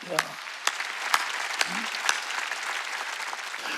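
A church congregation applauds during a Wednesday service, a soft scattered patter of clapping with a few sharper individual claps standing out, and a voice speaking briefly near the start.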